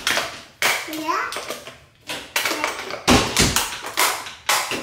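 A young boy bangs and bursts through a bedroom door at home, giving a series of sharp loud thumps and knocks with a voice speaking briefly between them.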